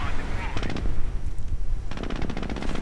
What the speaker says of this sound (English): we are hearing some engineers coming under fire from the Panzer Grenadiers